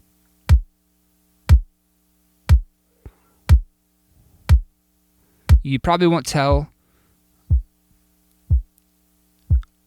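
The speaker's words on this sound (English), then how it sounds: "I'll show you what the sub kick sounds like" Drum machine sub kick tuned to 56 hertz, a series of evenly spaced deep booming thumps about once a second, with a brief spoken phrase over a couple of them midway.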